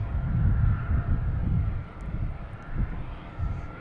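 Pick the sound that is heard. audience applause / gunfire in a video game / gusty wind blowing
gusty wind blowing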